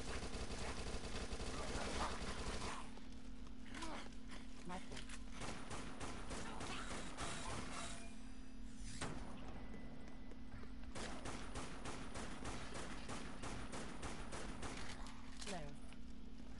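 Rapid bursts of submachine-gun fire from the zombie shooter Dead Nation ring out in long sustained volleys with brief gaps, loud and continuous over a droning game background.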